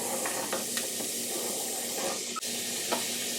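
Onions browning in a pan for lentil soup give off a soft, steady sizzle, fairly quiet and close, with faint stirring scrapes and clicks now and then.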